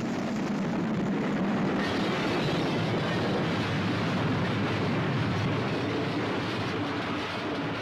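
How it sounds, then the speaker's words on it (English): A heavy, sustained roar and rumble of a train crash in a film scene, loud and dense throughout, with crashing, grinding noise and no voices. "He rescues his orphan girl named Susan from a train crash"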